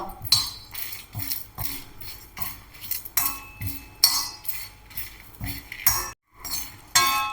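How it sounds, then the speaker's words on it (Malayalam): A spoon stirs spices and asafoetida roasting in a pan, making close, rhythmic metallic scraping and clinking that repeats steadily with a brief pause near the end. "ഒന്ന് വറുത്തെടുക്കാം കേട്ടോ."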